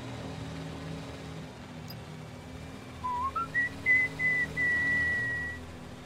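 A clear, melodic whistled tune in the video game Watch Dogs Legion, rising and then holding steady over a low, faint ambient hum, with no talking.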